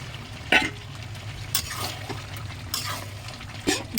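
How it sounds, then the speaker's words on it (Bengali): Chicken curry with fried potatoes sizzles in a pan as it is stir-fried, a low continuous hiss punctuated by several sharp spatula scrapes and knocks against the pan, with no voices. "দশ মিনিট মতো আরও কষিয়ে নেব"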